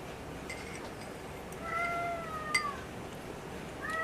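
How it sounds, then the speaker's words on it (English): A house cat meows in short, whiny cries in a quiet indoor room, faint and not very close, with a couple of rising calls over low background hiss. "There's my cat."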